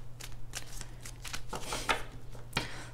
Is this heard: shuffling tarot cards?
yes